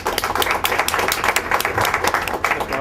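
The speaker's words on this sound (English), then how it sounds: "So let's have a round of applause for Mark." A room of attendees at a New York crowdfunding networking event claps for a presenter, producing dense, steady applause that fills the short stretch without a break.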